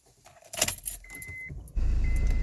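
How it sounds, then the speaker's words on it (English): A BMW 1 Series diesel starts up, with keys jangling and a short cranking whine before the engine catches and settles into a steady, close idle rumble. "we're gonna start the car up and leave the engine running at idle for 5 minutes before we start"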